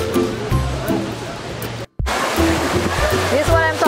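Rushing river water in Lynn Canyon Park, North Vancouver, flows steadily and fairly loud, with voices talking over it and a brief dropout near the middle.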